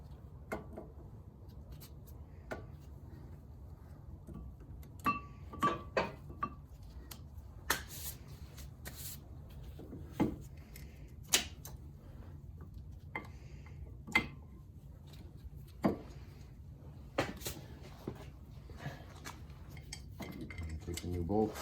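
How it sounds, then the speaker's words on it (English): Small metallic clicks and taps from fitting an outer brake pad into the front caliper of a 2003 Chevy Malibu, with scattered sharp ticks over a quiet background. "Let's get our outside brake pad in."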